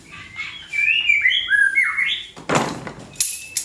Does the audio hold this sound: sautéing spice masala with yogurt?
no